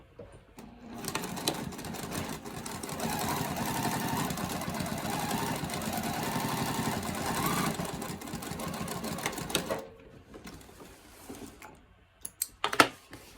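A sewing machine stitching with Tex 70 thread, a size 18 needle and a size 4 stitch length buzzes in one steady run of about nine seconds, then stops, followed by a few faint clicks and handling taps.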